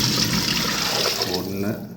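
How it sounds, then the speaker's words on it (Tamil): Water gushes steadily into a pot of rice and lentils being cooked, a loud continuous pour that trails off at the end, with a voice briefly audible. "இப்போ தண்ணி ஆட் பண்ணிக்கலாம்."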